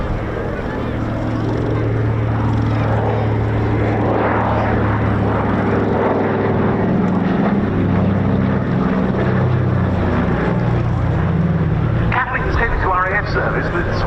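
Droning propeller aircraft, a Catalina flying boat at an air show, holding a steady engine hum that shifts in pitch as it passes, with a commentator's voice over a loudspeaker and crowd noise near the end.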